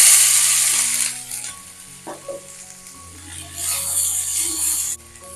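Capsicum and curry leaves frying in a pan, a steady loud sizzle that eases off midway and then swells again with occasional stirring scrapes.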